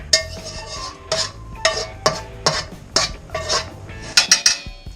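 Garden mushrooms tip into a homemade tomato spaghetti sauce and a big wooden spoon stirs them, giving close, irregular knocks and clatters against the pot between quieter moments.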